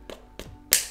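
Palm slaps against the side of a plastic water bottle, each followed by the flexed wall popping back: three sharp close hits, the last brightest and loudest.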